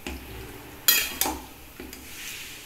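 Chicken and onions are stirred in a pan: a faint sizzle underneath, with three distinct scraping strokes of a utensil against the metal, close and fairly loud, and no talking.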